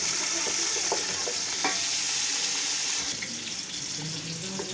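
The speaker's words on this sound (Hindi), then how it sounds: "प्याज को ना हमने करना है फ्राई। अभी स्टार्ट हो रहा है प्याज।" Sliced onions fry in lightly heated ghee for a Pakistani kadhi pakora, a steady close hiss with faint stirring clicks, softening slightly toward the end, with no talk.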